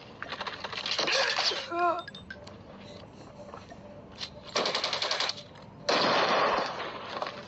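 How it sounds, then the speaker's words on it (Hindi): Rapid automatic gunfire bursts from the Call of Duty video game at an eSports contest, several loud rattling volleys with pauses between, under excited commentary. "कहीं पे भी गोली चला रहे"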